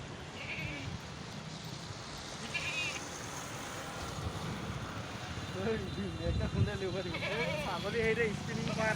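A goat bleats at a busy Maharashtra market, a few wavering cries rising over steady crowd noise and nearby talk.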